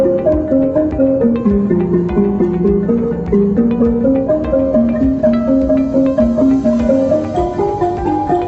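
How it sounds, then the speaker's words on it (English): Gambang, a Javanese wooden xylophone from a gamelan, struck in a steady stream of mallet notes with bright percussive attacks and melodic runs, played loudly and continuously with other gamelan tones alongside; no talking. "Gambang, a wooden xylophone."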